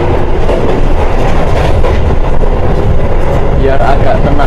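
Inside the moving Argo Bromo Anggrek passenger train in Indonesia, a loud, steady rumble of wheels and carriage noise fills the space without letup.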